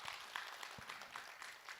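An audience at a Buddhist monk's question-and-answer lecture gives faint, distant applause, a soft patter of many hands lasting under two seconds.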